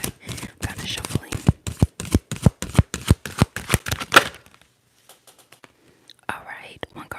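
Tarot cards are shuffled close up in a rapid run of crisp, rhythmic riffling slaps, followed by a quiet pause and a few soft card sounds.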